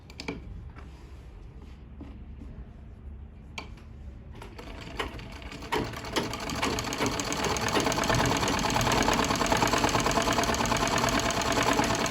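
An electric sewing machine stitches a straight strip onto a garment neckline, starting with a few short bursts, then settling into a steady, fast, continuous whir with rapid needle chatter that grows louder and fuller.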